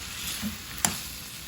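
Pork frying in a pan for salpicao, stirred once: a soft steady sizzle with a brief sharp scrape of the spatula partway through, no voices.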